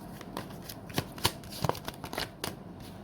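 Tarot cards being shuffled by hand, a series of close riffling snaps and soft slaps of card stock in irregular bursts, no talking.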